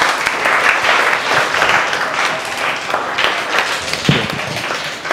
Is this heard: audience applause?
yes